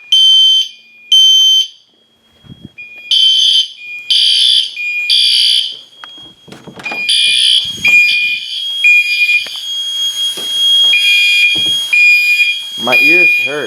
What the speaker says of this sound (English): system sensor sync portion